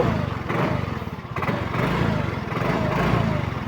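Yamaha MiO i 125 scooter with a check engine light and battery charging fault, its small engine running close and loud with a rough, pulsing putter that swells slightly as it revs.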